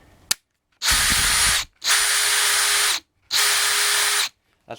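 Dewalt DCD796 hammer drill driver spinning at its lower speed: three sustained whirring bursts of about a second each with short pauses between, loud and close, after a brief click at the start.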